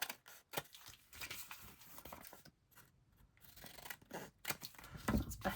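Scissors snip through paper for a junk journal collage, irregular quiet crisp cuts and rustling paper at close range, with pauses between strokes and no talking.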